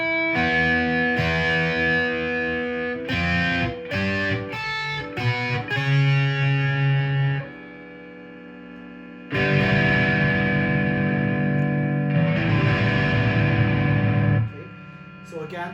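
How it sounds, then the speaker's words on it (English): Heavily distorted high-gain chords and riffs on a G&L Legacy Tribute electric guitar made in Korea, loud and sustained, with a short quieter stretch midway. "modern high gain sound, and you guys can hear what it sounds like"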